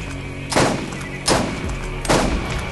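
Three heavy sniper rifle shots boom in the video game Borderlands, evenly spaced under a second apart, each a loud punchy blast with a rumbling tail over steady game background noise.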